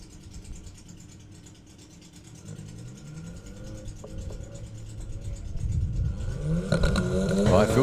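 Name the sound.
VW Passat drag racing car launching at drag race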